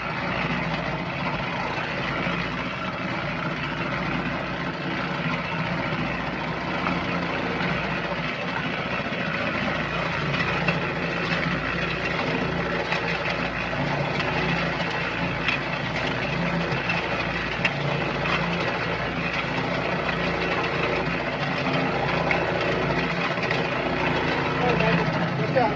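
A Harbor Freight concrete mixer churns concrete in a continuous droning rumble with a gritty wash over it, steady and close for the whole stretch.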